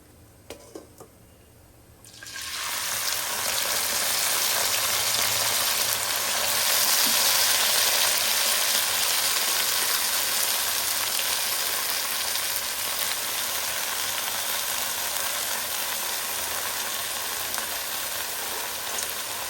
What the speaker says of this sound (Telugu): ఆయిల్ అయితే హీట్ అయింది కదా. ఇప్పుడు మనం కట్ చేసి పెట్టుకున్న గోంగూర యాడ్ చేసుకుందాం దీంట్లో